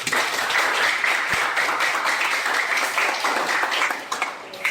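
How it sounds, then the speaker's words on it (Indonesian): A class of high school students applauding a classmate, dense steady clapping filling the room for several seconds and thinning slightly near the end. "Oke, tepuk tangan untuk dia."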